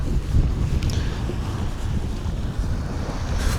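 Strong wind buffets the microphone outdoors on an Icelandic hillside near hot springs, a steady loud rumbling roar with gusty surges and no voices.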